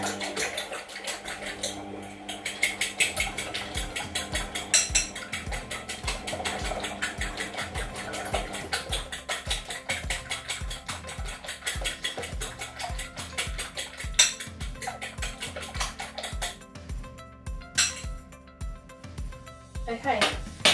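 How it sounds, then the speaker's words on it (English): Eggs are whisked in a bowl, a fast, even clinking of metal against the bowl that repeats several times a second and keeps going for about twenty seconds. "So whisk up the eggs."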